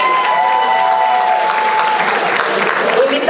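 Steady audience applause at a freshers' ball, a continuous crowd of clapping hands with a faint tonal whistle or feedback line running under it for the first two seconds.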